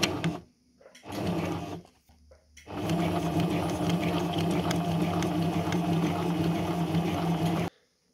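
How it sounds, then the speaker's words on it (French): A sewing machine stitching a skirt zipper seam with a zipper foot, first in short stop-start bursts, then in one long steady whirring run that cuts off abruptly. "Et là, je commence à piquer."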